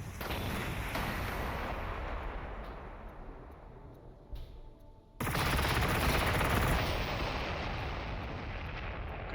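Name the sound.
missile attack in video game Warhammer 40,000: Gladius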